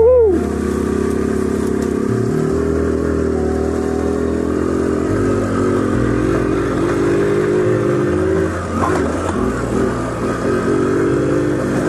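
Small single-cylinder engine of a Trail 70 CT70 clone minibike riding off road, revving up and down with steady putter and rising pitch changes, close and loud throughout.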